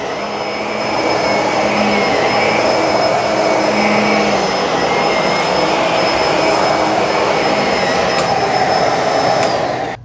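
A Bissell SurfaceSense Allergen Lift-Off Pet upright vacuum cleaner runs steadily and loudly at close range, with a constant motor roar and a thin high whine holding throughout.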